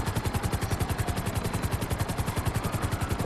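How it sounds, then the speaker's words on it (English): A police helicopter in Grand Theft Auto Online on PS4 thumps overhead with a fast, steady rotor chop, close and loud, continuous throughout without talk. "The police helicopter just behind you as well."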